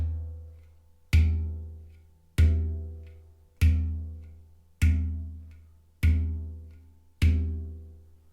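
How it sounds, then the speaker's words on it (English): A handpan's bottom edge is thumped lightly with a closed fist, six deep resonant booms at an even, unhurried pace, each with a bright attack that decays slowly into a low hum, heard alone. "A second technique is to use a closed fist and to lightly thump the edge of your handpan on the bottom."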